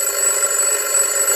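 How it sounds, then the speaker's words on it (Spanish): An alarm clock rings in a cartoon, giving a loud, continuous, high metallic jangle that holds steady throughout with no pauses. "Es la alarma de Pato."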